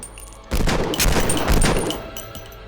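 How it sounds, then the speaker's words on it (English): Rapid pistol fire in The Punisher video game, a close, loud burst of overlapping shots that starts abruptly and rattles on for about two seconds before fading. "Now we gotta use our pistols to blow those glasses off his face."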